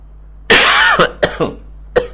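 A loud, harsh cough from a speaker on air, followed by several shorter, weaker coughs trailing off, then one final cough after a brief pause, close to the listener.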